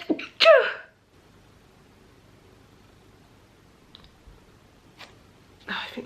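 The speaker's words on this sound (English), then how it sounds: "Why do I feel like I'm gonna sneeze right now?" A single sharp sneeze bursts out at the start, followed by near silence with a couple of faint clicks and a brief breathy sound at the end.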